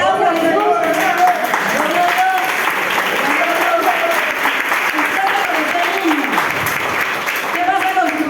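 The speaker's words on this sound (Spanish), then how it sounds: "Aplausos a Jesús." Loud, dense applause from a charismatic church audience, with voices and cheering mixed in, continuing steadily throughout.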